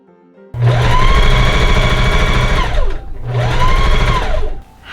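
A sewing machine stitching bias tape onto a blouse sleeve runs in two steady, loud whirring bursts with a brief pause between them, close and alone.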